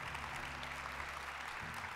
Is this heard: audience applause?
yes